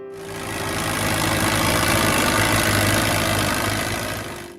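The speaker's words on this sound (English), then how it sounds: "Our next tractor is smaller, older, and just as hard to kill." A Case VAC tractor, a small older compact farm tractor, idles steadily with a continuous low engine rumble and chug, close and loud, with no speech.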